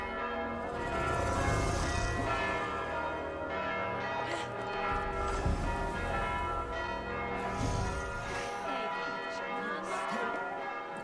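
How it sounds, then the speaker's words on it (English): Church bells peal continuously in Assassin's Creed Valhalla, a dense, loud, layered ringing that fills the whole stretch with overlapping tones, with game ambience and some talk underneath. "just get me away from these bells"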